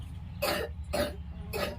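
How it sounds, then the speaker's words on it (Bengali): A girl coughs three times in an even rhythm, close by, each cough short and dry against a quiet background. "আর এদিকে আমার মেয়ে দেখো কাশছে"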